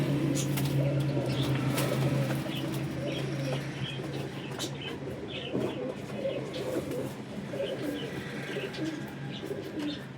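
Rooftop flock of flying pigeons coos in a steady, low rolling murmur, with scattered faint chirps layered over it throughout.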